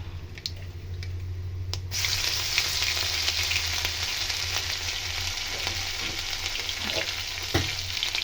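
Chopped ginger and green chili dropped into a pan of hot oil with cumin and mustard seeds, jumping from a faint crackle to a loud, steady close sizzle with stirring scrapes and sharp pops.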